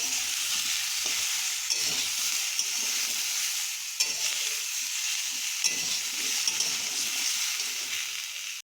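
Chopped onion frying with vegetables in a pan gives a steady, close hiss of sizzling, broken by soft scrapes and stirring knocks throughout.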